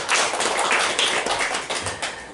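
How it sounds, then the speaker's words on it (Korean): Congregation in a church clapping together at a New Year thanksgiving service, a dense, steady wash of many hands filling the room for a couple of seconds. "먼저 하나님께 감사의 박수를 올려드리겠습니다."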